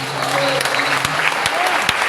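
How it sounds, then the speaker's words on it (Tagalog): Congregation clapping steadily through a church service, a dense sustained patter of many hands, fairly loud, with a few sharper individual claps standing out. "Mas malakas sa palakpak para sa ating mahal na Panginoon."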